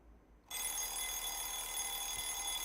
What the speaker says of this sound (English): I groped around for the clock and turned off the loud alarm